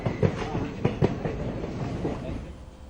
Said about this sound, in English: On board Shramik train